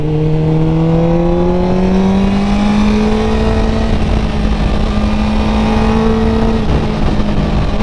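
A 2001 Suzuki GSX-R 600 K1 sport motorcycle engine pulls loudly at full throttle with steady rising revs, a brief dip as a gear changes late on, then climbs again, close and continuous.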